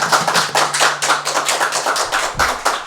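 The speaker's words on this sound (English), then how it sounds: "Let's give them another round of applause" A studio audience at a local music show gives a round of applause, a steady run of hand claps of moderate loudness that carries on throughout with no talking.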